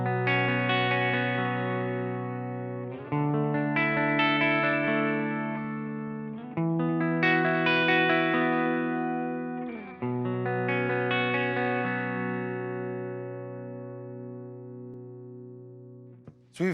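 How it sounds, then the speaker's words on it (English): Clean electric guitar chords run through a filter that strips the high end, giving a smooth, mellow tone; four strummed chords ring out and decay in turn, alone and close. "So we've taken all that high end and removed it, and it should make your guitar sound a lot smoother."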